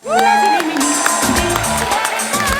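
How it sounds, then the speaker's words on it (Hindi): A television comedy show's studio audience applauds and cheers loudly to welcome a guest onto the stage, a dense, sustained roar mixed with upbeat music. "जोरदार तालियों से स्वागत कीजिए"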